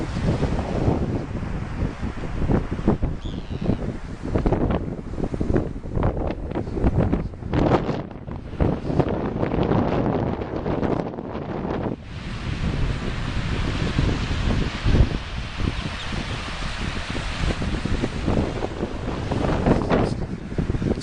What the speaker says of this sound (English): There will be a noise because it's fairly windy